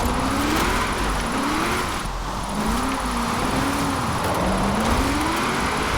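A 2013 Toyota GT86 driving in Forza Horizon 4, its engine note steadily rising and falling through gear changes, continuous and fairly loud over a hissy background.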